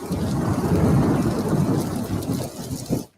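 Steady heavy rain pours with rolling rumbles of thunder in a chimney service advert, loud and continuous before fading out at the end.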